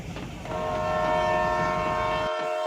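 A train sound effect from an audio story: a sustained, loud train horn blares over rumbling rail noise for nearly two seconds, then stops sharply, leaving faint background.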